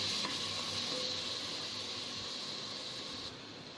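Ginger garlic paste sautéing in a pan while prawn biryani is prepared, giving a steady soft sizzle and hiss throughout that eases slightly near the end, with no talking.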